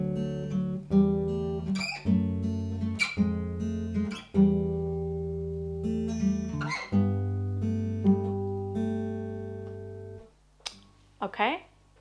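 Guitar fingerpicking two layered parts of a song together, with clear plucked attacks and ringing sustained notes, close and clean, fading to a brief pause near the end.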